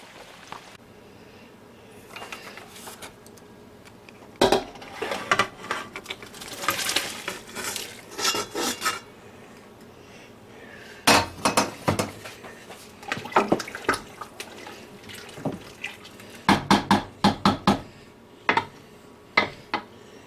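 Spiced meat tipped into a stock pot of homemade soup with cooked barley and lentils gives a series of close, irregular clatters, stirring knocks and wet splashes in bursts, with quieter gaps between and no talking.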